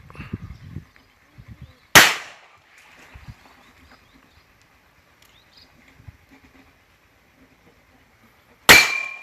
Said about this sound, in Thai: นี่คือ ลูกโม่อาร์มสกอร์ขนาด4นิ้ว เอาเลย รุ่นอีดิชั่น ยิงไปแบบเต็มที่